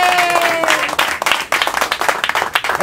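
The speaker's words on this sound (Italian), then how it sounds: "Applauso" Studio audience on an Italian television show breaks into dense, lively applause, close and steady, with a faint voice briefly audible at the start.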